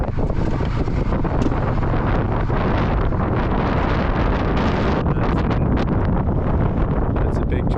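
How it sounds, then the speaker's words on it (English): Strong wind buffets a microphone outdoors beside a truck as a weather front moves in, a loud, continuous, close roar with gusty low rumble throughout. "I don't think you're going to hear much because it's really windy out."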